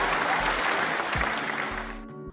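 Audience applause welcoming someone speaker at a business talk on navigating the new economy, dense steady clapping from a crowd that tapers slightly near the end, with a low hum underneath.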